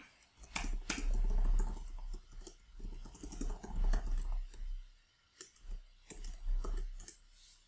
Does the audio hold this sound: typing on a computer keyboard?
yes